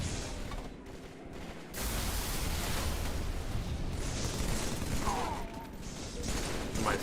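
Gunfire and explosions from a Halo-style shooter video game, a dense continuous barrage of shots and booms filling the scene at steady loudness with no pauses.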